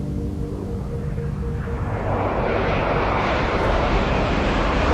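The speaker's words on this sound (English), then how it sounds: "a jet flying through the air" A jet aircraft roars past, starting with a steady droning engine tone that swells into a loud, broad rushing blast as it draws nearer, continuous and uninterrupted throughout.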